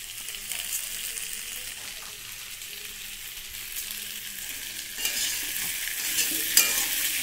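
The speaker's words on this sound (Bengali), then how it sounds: "আলু আর আদা বাটা দিয়ে দিলাম, নাড়ছি" Potatoes and ginger paste frying in hot oil with spices, a loud steady hiss of sizzling with occasional scraping stirs and a small clink near the end.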